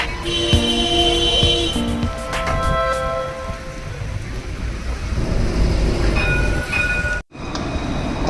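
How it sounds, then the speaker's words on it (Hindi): A city-centre tram in Dublin rolls past on its tracks, a steady loud rumble with metallic squeals and tonal whines, the noise swelling and then fading as it goes by. "बिल्कुल शहर के मध्य में से ट्राम निकलती है।"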